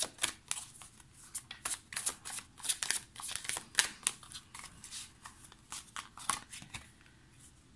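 Tarot cards are drawn and handled from a deck, giving a steady run of crisp papery snaps and slides, close and fairly quiet, with no talking.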